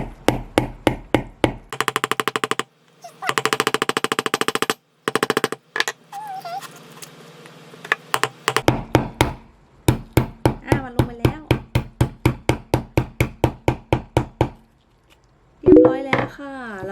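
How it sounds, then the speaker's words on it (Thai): Repeated sharp hammer blows punching a hole in a plant pot, in quick rhythmic bursts, with pauses between runs and a voice speaking briefly in the gaps. "แล้วเราก็เคาะ โดยใช้ค้อนเนี่ยนะคะตอกไปเรื่อย"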